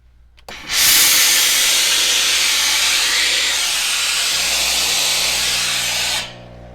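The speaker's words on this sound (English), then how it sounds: "I'm just going to show you how much steam comes out of it" A steam iron lets out one long, loud hiss of steam that begins abruptly, holds steady for roughly five seconds and then cuts off, with a faint low hum underneath and nobody speaking.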